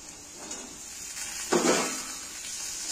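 Cut eggplant pieces drop into hot oil where potatoes are already frying, giving a faint soft hiss that swells briefly into a brighter sizzle and then settles back to a steady low crackle.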